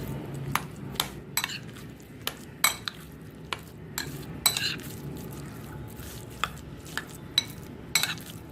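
Curd rice is mixed with thick curd in a bowl, a spoon clinking and scraping against the dish in irregular, close strokes over a soft, wet squelch, with no talking.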